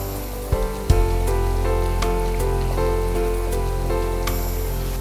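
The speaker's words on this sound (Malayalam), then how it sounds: "നല്ല ഗോൾഡൻ ബ്രൗൺ ആയിട്ട് വറുത്തെടുക്കണം." Sliced onions frying in hot ghee for mutton biryani, a steady, dense sizzle like rain on a surface, close and continuous, with a couple of brief knocks near the start and no talking.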